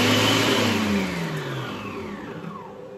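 A Mambo kitchen robot chops garlic at turbo speed, its motor whirring up to a loud high spin and then winding down as the pitch falls over a few seconds, with no talk.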